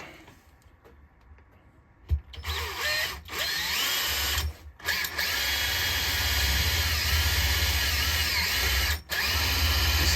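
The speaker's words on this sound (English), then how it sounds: "we're just going to drill out" A power drill bores with an 8mm bit, a fairly blunt one, for a woodturning penny-sharpening jig: a steady, loud close-up whine runs almost continuously after a brief start, with short pauses around the middle and near the end.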